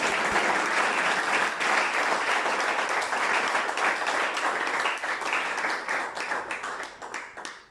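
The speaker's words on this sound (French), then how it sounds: "applaudissons pour elle." A church congregation breaks into sustained, dense applause for a woman who stood up to give testimony, steady and loud before thinning out toward the end.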